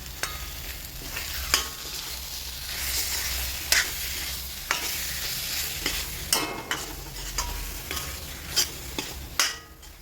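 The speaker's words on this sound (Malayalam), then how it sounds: "കറിവേപ്പിലയും കൂടെ ഇട്ടിട്ട് ഇളക്കിയാൽ മതി" Curry leaves being stirred in a hot frying pan, a steady oil sizzle under repeated scraping strokes of a spoon against the pan, close and fairly loud, with no talking.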